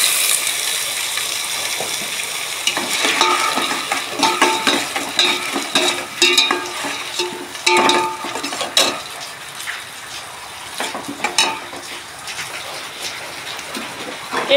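Drained, washed rice goes into a pot of hot oil with a little sugar and is stirred, producing a continuous sizzle with rattling, scraping spoon strokes against the pot, close by.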